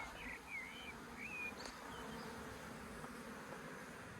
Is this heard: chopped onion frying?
no